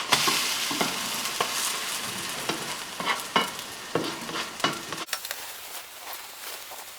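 A buttermilk pancake cooks in a pan with a soft, steady sizzle, cut by a run of quick scraping taps as a spatula loosens it. The sizzle drops abruptly near the end, close and unvoiced.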